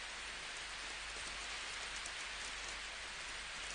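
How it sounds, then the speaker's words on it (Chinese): Heavy rain pours down in a steady, dense hiss that stays even and unbroken throughout, with no speech over it. "超大雨啊！"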